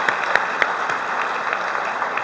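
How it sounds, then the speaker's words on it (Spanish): An audience at a tax administration talk applauds a speaker, with steady, dense clapping and a few sharper claps near the start, loud and alone. "Un aplauso para nuestro orador, Magín Díaz, director general de impuestos."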